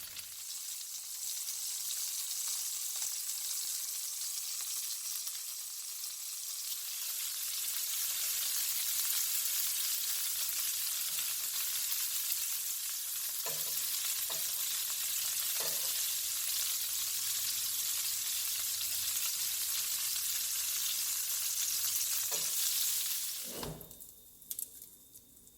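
Italian-style homemade meatballs browning in a frying pan give a loud, steady sizzle that runs throughout, with a few soft utensil knocks and a brief clatter near the end; no one speaks.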